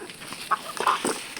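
A few short, soft clucks from chickens close by, scattered over a quiet background.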